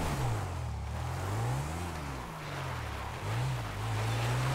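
A motorbike ridden in the video game GTA V, its engine droning steadily with pitch rising and falling as the rider speeds up and eases off, loud and continuous with no talking.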